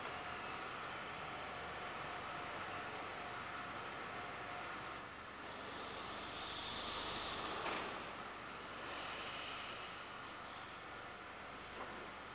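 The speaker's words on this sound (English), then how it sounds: "This particular engine is the last generation of steam winding engines made to raise and lower cages into and out of coal mines in Britain." A last-generation British steam winding engine, built to raise and lower coal mine cages, runs with a continuous steamy hiss and rumble. The sound swells briefly in the middle before settling back to an even drone.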